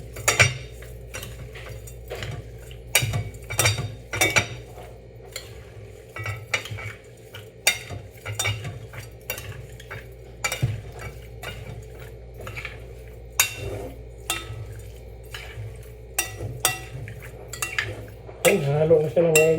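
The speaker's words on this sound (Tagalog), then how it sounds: "Halo na siya ng maigi." A spoon stirs a homemade bagoong (fermented shrimp paste) mixture in a metal pot, with steady repeated clinks and scrapes of utensil against pot close by and a low rumble underneath.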